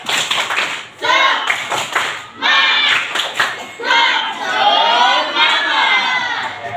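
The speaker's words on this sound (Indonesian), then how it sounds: "Tepuk semangat." A class of schoolchildren performs a rhythmic spirit clap during a religious education lesson, with bursts of patterned clapping alternating with loud group chanting, close and energetic, in several phrases.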